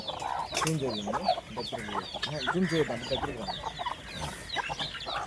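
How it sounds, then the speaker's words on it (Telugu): A native country rooster on a chicken farm clucks and calls repeatedly at close range, joined by other fowl, with a voice speaking briefly alongside. "ఇది మన నాటుకోళ్ళ ఫామ్లో కాకిడేక ఒరిజినల్ పుంజు"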